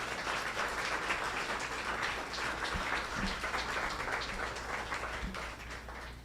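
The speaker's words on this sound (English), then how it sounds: "you all give another round of applause for all the students that have been working so hard this week" A large audience at an evening lecture applauds students with steady, dense clapping that holds at full strength throughout, filling the room like a continuous wash.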